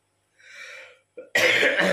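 A short breathy throat sound, then a sharp, loud cough that bursts out and rings on briefly, close up.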